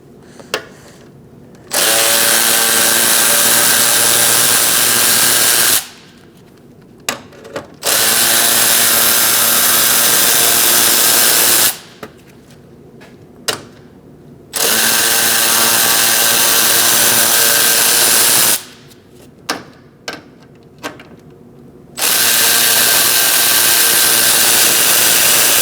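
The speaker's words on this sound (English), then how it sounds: "Using a 7mm socket, we're going to remove these 4 bolts." Power tool fitted with a 7mm socket spins out four bolts on a 2016-2019 Chevrolet Cruze 1.4L during radiator replacement; loud, steady whirring bursts of several seconds each, separated by short pauses of quiet handling.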